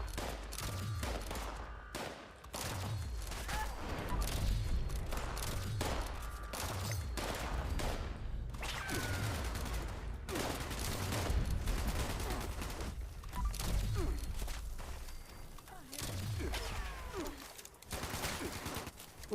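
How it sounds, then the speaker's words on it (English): Dense, continuous video game gunfire fills the scene, with rapid bursts and machine-gun volleys rattling close and loud almost without pause. "Who's shooting at me?"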